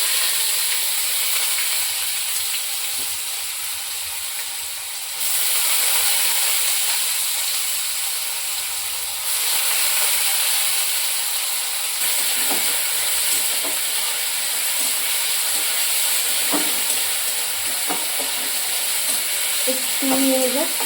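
Onions frying in a pan for a mushroom curry with yogurt, a continuous hissing sizzle that rises and dips in level, with a few faint utensil scrapes toward the end.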